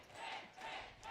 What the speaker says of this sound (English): Crowd chanting.